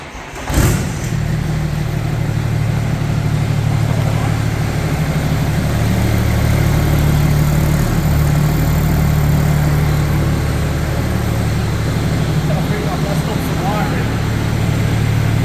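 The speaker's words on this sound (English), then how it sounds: "Just start the car then, Harry." A 1969 Mustang fitted with a turbo diesel engine cranks and fires at the start, then settles into a steady, close, loud idle with a constant low hum throughout.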